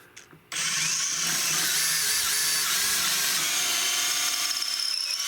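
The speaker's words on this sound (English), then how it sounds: "that's as far as I can go with this length on my drill bit" A power drill whines steadily as it bores into a Tikka T3 rifle stock being fitted with a drop grip, starting abruptly after a brief quiet moment and running continuously near and loud.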